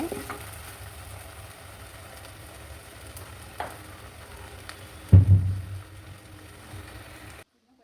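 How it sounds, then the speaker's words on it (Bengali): Sliced onions sizzle in oil with two dried chilies and a bay leaf as they are stirred, making a continuous frying hiss with a scraping stir that swells sharply toward the end before cutting off. "শুকনা মরিচ দুইটা আর দিচ্ছি তেজপাতা এখন নেড়ে চেড়ে দিচ্ছি পেঁয়াজকে"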